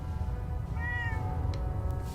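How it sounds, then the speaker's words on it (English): A cat in the video game Fallout 4 gives one short meow, faint and somewhat distant over a steady low rumbling game ambience. "Holy crap, there's a cat."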